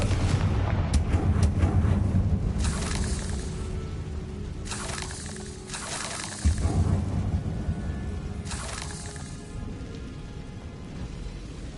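Confringo spell blasts in Hogwarts Legacy, a few heavy booming explosions in a steady rumbling backdrop, spaced several seconds apart.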